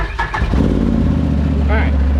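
A Can-Am Maverick side-by-side cranks with the key and catches, settling into a loud, close, steady idle with a rough low throb; a voice speaks briefly as it fires.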